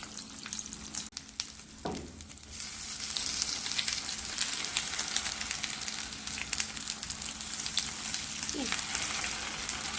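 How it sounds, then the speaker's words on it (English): French toast slices sizzle and crackle steadily in a hot pan, a continuous bright frying hiss with a couple of soft clinks and a brief scrape near the start. "You do want them to sizzle when they hit the pan."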